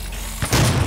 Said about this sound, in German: Eine komische Granate.